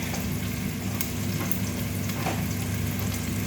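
Steady, loud sizzle of pancit noodles frying in a pan as soy sauce is added, a continuous hiss with faint stirring clicks and no voices.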